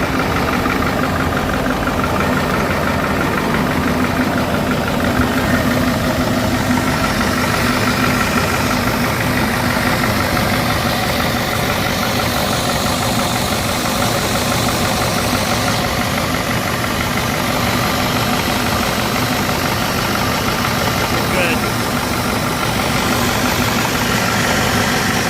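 A Caterpillar 3208T 10.4-litre V8 turbo diesel in a Ford F8000 truck idles steadily and loudly at close range, a continuous low rumble with faint knocking and vibration, no voices.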